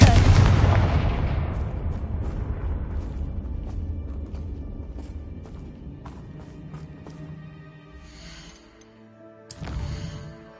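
A Confringo blasting curse in Hogwarts Legacy sets off a loud explosion whose deep boom opens the clip and rolls off over several seconds, followed by scattered lighter thuds and a second burst near the end.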